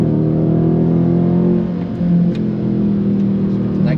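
Dodge Charger Scat Pack V8 under full throttle on the Nürburgring, a steady loud droning engine note heard from inside the cabin, holding nearly constant with only slight pitch shifts.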